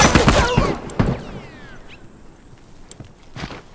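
Rifle gunfire in a video game: a burst of sharp rapid shots at the start, then scattered single cracks and echoing reports, with a faint whizzing sweep in between.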